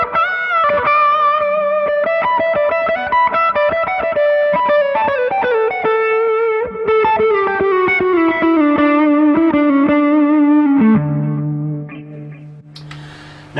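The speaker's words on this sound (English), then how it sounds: "It's probably a mid-gain kind of overdrive distortion, but it's really smooth and really warm" An electric guitar through a Xotic BB Preamp overdrive pedal with smooth, warm mid-gain distortion sustains a sliding lead line, loud and compressed, then a lower chord rings out. No talking.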